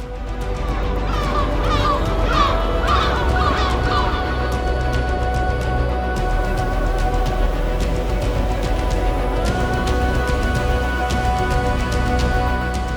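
Water birds call on a Patagonian glacial lake near Grey Glacier, a quick run of honking cries in the first seconds that fades into steady, loud outdoor noise.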